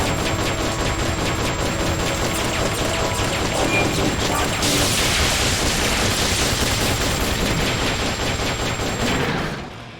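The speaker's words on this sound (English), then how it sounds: "I bet you I can just take you out with a machine gun." Machine gun fire in Metal Gear Solid Peace Walker, a loud continuous rattling burst of rapid shots, growing denser midway before tapering off at the end.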